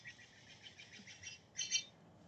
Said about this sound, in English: the bird says good morning. I think it's a hawk, but I'm not sure.